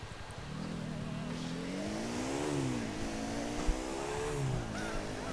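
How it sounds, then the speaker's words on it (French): A small special motorcycle engine in the video game GTA 4 revs and drones continuously, its pitch rising and falling through gear changes, with a brief thump partway through and no talking over it. "Ah, j'ai trouvé une petite moto spéciale,"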